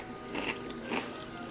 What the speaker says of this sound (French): pas vraiment du bruit de bouche, mais là, c'était plus du croquage